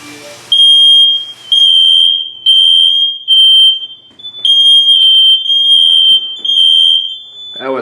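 A loud, piercing smoke alarm beeps in long repeated bursts with short gaps between them, then cuts off near the end, followed by a brief rustle.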